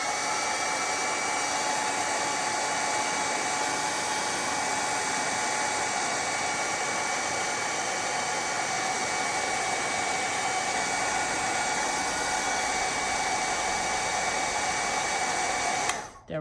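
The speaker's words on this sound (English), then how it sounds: "I'm actually going to give it a shot with my heat gun" A heat gun blows over wet watercolor paint with a continuous, loud, close whooshing hum like a hair dryer, holding steady for about sixteen seconds before it cuts off abruptly at the end.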